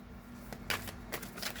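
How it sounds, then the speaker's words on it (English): A deck of tarot cards is shuffled close by in a few quick riffling bursts, crisp and alone without talk. "I'll shuffle and get some more cards"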